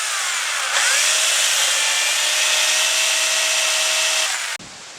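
A chainsaw cuts incisions into a wooden piece while shaping a timber brace, a loud, close, steady high-pitched whine held for several seconds before it abruptly drops away.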